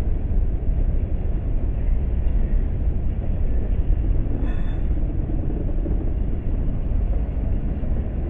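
A heavy, steady rumble of a freight train rolling past Callahan Junction fills the air, a continuous low roar with faint clanks, no voices.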